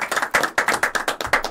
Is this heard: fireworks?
no